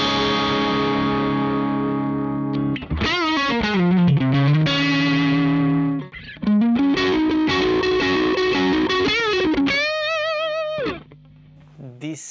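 Electric guitar played through a Soldano SLO 100 amplifier, 2020 edition, in a chorused, echoing clean-to-crunch comping tone: sustained chords, then bending, shifting notes and a rhythmic passage, ending with a brighter chord that fades.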